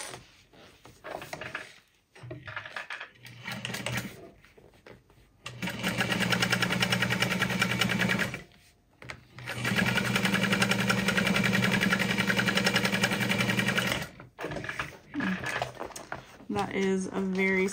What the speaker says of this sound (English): So we're gonna press that seam down and top stitch on the vinyl.